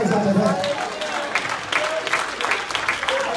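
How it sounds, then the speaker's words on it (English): A church congregation claps their hands in dense, lively applause during a sermon, with vocal shouts rising over the clapping. "clap your hands out of that."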